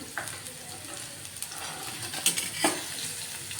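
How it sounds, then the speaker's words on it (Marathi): Cucumber and green chili sautéing in a pan for a fasting-day sabudana dish, with a faint sizzle and a few soft scrapes and clinks of a spatula, quiet and close, no talking. "काकडी आणि मिरची गुलाबी रंगावर परतून घ्यायची"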